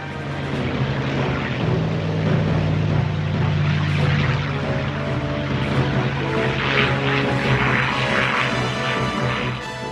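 A Japanese carrier-borne propeller aircraft flies past with a steady, loud droning engine hum that swells and holds across the whole stretch, with no talking.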